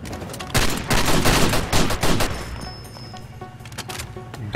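Gunfire in the video game Far Cry 2, a rapid burst of loud overlapping shots for about two seconds, then scattered fainter pops and a fading echo.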